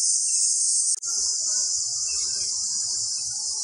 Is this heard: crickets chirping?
yes